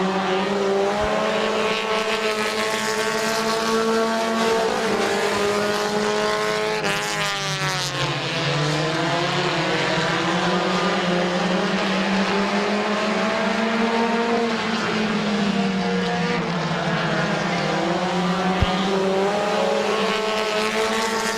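Compact race cars roar around Midvale Speedway in 2017, engines droning and rising and falling in pitch as they pass, a loud, continuous pack sound with no voices heard.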